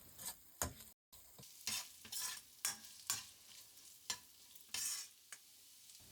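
Spices and minced meat for mapo tofu are stir-fried in a pan: quiet, irregular scrapes and tosses over a light sizzle, with brief pauses between strokes.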